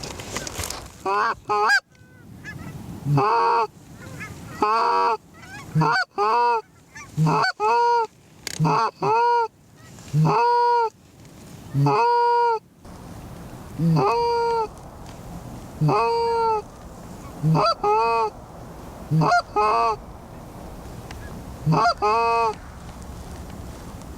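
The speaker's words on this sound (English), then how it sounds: "It's tough when you're competing with all those live geese." Live geese honk repeatedly and loudly, a flock calling in overlapping bursts, with occasional voices underneath.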